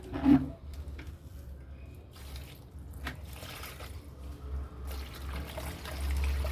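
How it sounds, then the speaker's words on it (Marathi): Liquid fertilizer made from stored onion peels is strained, giving a faint, steady trickle and splash of liquid with a few soft knocks. "मग त्याचं असं लिक्विड तयार करून घेतो असं गाळून"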